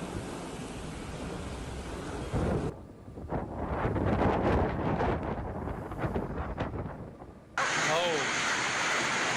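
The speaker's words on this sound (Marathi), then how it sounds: "वादळी वाऱ्याचा जोरदार तडाखा इथं बसलेला आहे" Strong gusty wind roars and buffets the microphone, with abrupt shifts in the noise as the gusts come and go.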